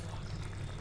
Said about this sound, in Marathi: आता याच्यात थोडासा गरम पाणी टाकूया.